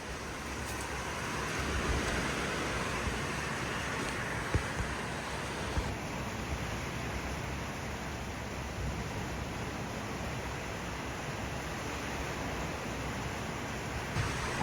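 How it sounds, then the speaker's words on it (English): Strong, steady wind during an afternoon thunderstorm, a continuous broadband roar that holds at the same loudness throughout with no voices. "Actually, the wind's pretty bad."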